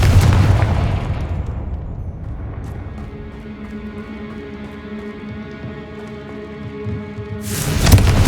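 Bombarda and Confringo spells explode in the Hogwarts Legacy video game: a heavy opening boom fades into a ringing tonal hum, then another loud blast hits at the end.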